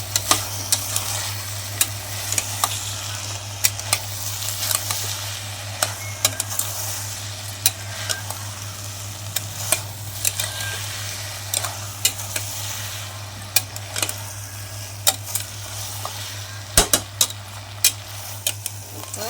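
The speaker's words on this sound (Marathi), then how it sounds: "हलवून घेते आता ह्याला" Chicken biryani ingredients sizzle in a pan while a utensil scrapes and clinks against it in irregular strokes, over a steady low hum, close by.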